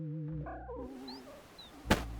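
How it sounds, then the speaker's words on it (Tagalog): A bird coos softly and calls in a sleepy, gentle way, with faint high chirps and a brief sharp noise near the end. "Ang huling ibon ay nagpapaalam sa pamamagitan ng tahimik at inaantok na huni."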